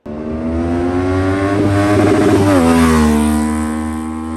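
A QJmotor SRV 600 V4 motorcycle accelerates hard, its loud, close engine note climbing steadily through the revs before a gear change and further pull, with no talking.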